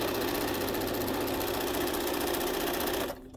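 A sewing machine stitches through a foundation paper quilt block in one continuous, even whirring run of needle strokes, loud and close, stopping abruptly just before the end.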